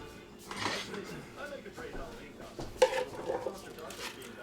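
A spoon stirring Greek chicken meatball ingredients in a Ninja Speedi pot, giving soft intermittent scrapes and clinks with one sharper knock, faint and close, with a person talking over it.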